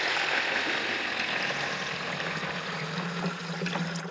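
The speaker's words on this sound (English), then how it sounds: "fill your tank about halfway up" Water pouring steadily into a garden spray tank for a dwarf orchard spray mix, a continuous close splashing trickle that holds even and loud throughout with no voices.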